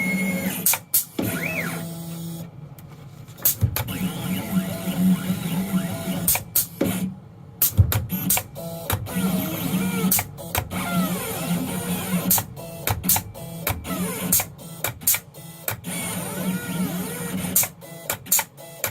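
A giant mat cutter used as a die cut machine runs in repeated bursts, sharp mechanical clacks and motor whirs spaced irregularly over a steady hum, fairly close and loud, with no talking.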